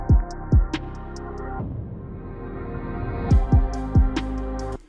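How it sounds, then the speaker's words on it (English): Reverse melodic transition effect in electronic production: kick-driven music with hi-hats plays, then a swelling reversed, smeared tonal wash rises before the beat returns with kicks and hats. "Rev Transition sounds like this."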